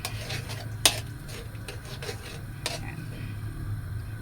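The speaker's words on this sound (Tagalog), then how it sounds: "So, tanggalin muna natin yung takip." A metal lid comes off a pot of sautéed pork simmering over low heat: one crisp clank, then light scraping and clinking over a steady cooking hum.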